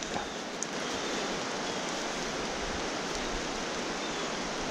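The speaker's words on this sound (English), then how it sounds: "Hopefully you can hear me over those waterfalls." Rushing water from waterfalls pours in a steady, broad roar close by, constant and unbroken throughout, where the Emory and Obed rivers converge on the Cumberland Trail.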